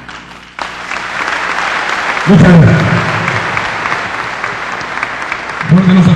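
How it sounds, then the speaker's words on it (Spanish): Loud applause from a crowd at a Peruvian political event honoring Nationalist congresspeople with the Civil Construction union, steady dense clapping after a brief spoken thanks, with a voice cutting in partway through and again near the end. "Fuerte los aplausos"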